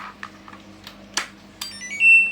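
An LG WD-E1212TD front-loading washing machine's buzzer sounds on power-up after repair of a dead-unit fault: a rising electronic beep tone near the end, sustained and fairly clear over a low mains hum, with faint clicks before it.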